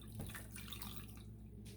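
Hot tap water runs steadily from a faucet over frozen tomatoes in a kitchen sink, a continuous splashing rush that stays close and even throughout.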